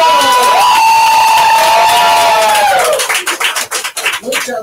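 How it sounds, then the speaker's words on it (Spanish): Crowd at a comedy open mic in Mexico cheering and whooping loudly, with a sustained shout at first, then breaking into choppy clapping and scattered yells toward the end. "A ver, venga hasta ese aplauso,"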